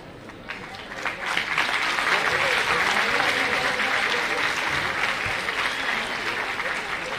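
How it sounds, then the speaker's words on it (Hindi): Parents applaud at a primary school's annual prize-giving. The clapping swells after a quiet second, then stays full and sustained as a broad crowd wash that fades slightly at the end. "ये बच्चों की हिम्मत अफजाई है आपकी तालियां।"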